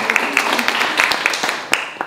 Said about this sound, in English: Give a round of applause to home